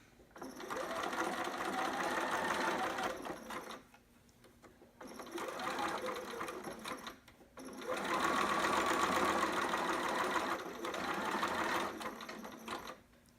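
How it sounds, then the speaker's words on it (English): A domestic sewing machine runs in several steady bursts of a few seconds each while stitching a zigzag seam with back stitching, with short pauses between runs and a close, even mechanical whir. "you're going to want to back stitch"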